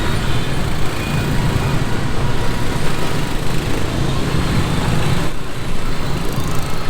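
Steady road traffic on a busy street in Vietnam, a dense continuous rumble of engines and motorbikes passing close by, with no clear breaks.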